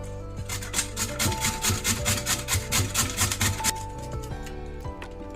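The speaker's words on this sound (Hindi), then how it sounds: "तो हमने मूली को ग्रेट कर लिया है।" Peeled radish is rubbed across a hand grater in a home kitchen, producing a quick run of rhythmic rasping strokes, close and clear, that stops after a few seconds.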